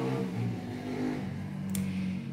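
A car passes outside in a residential neighbourhood, a steady engine hum with a low tonal drone that shifts pitch as it goes by, moderately loud and continuous, with a brief bright click near the end.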